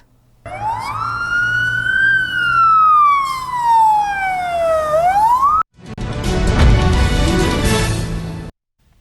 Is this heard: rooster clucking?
no